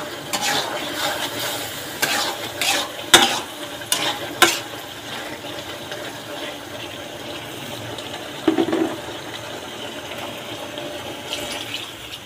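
Curry masala is sautéed in a pan, with a run of sharp spatula scrapes and knocks early on over a continuous soft sizzle that settles into steadier frying later.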